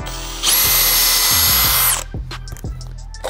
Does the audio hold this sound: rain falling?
no